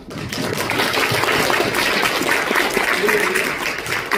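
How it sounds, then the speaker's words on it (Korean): Audience applause at a foundation launch and newspaper founding ceremony in Korea, a dense, steady wash of clapping that swells and holds for several seconds. "힘찬 박수해 주시면 감사하겠습니다."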